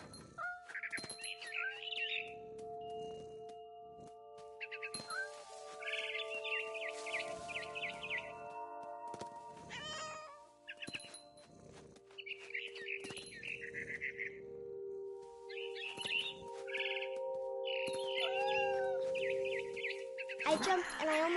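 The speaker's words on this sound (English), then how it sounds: "Then I heard chirping outside my window." Barn swallow chirping in the video game What Remains of Edith Finch, with repeated short tweets and chirps over sustained tonal background music, alongside intermittent speech.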